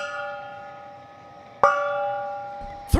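A gong-like bell rings for a home run at a Dodgers baseball game, two metallic strikes that each hang in a long shimmering sustain, loud and close with no talk over them.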